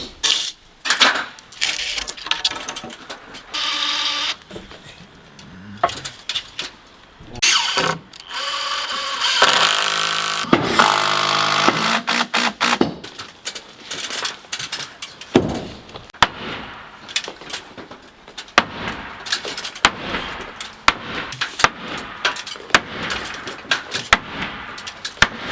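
Heavy sledgehammer blows on a wooden block, driving a replacement sill into place: a long run of sharp, loud impacts in irregular bursts with clanks and rattles between strikes.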